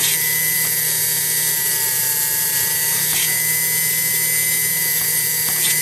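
A rotary tool fitted with a Dremel bit grinds steadily at close range, a continuous high whine with faint ticks and no talking, while working on a Cremina espresso machine.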